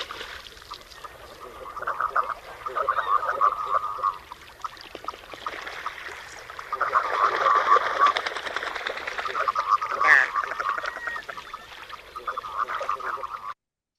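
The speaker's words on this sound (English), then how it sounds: "let's give a quick listen to the common Merganser male courtship noises" Courtship calls of male common mergansers: low, frog-like croaking and purring notes that repeat in uneven bursts, with soft watery background noise and one brief sharper note partway through.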